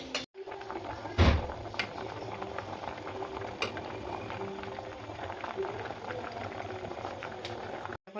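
Mung dal cooked with a catla fish head boils in a pot, a steady close bubbling simmer throughout with a brief knock near the start and faint talk in the background.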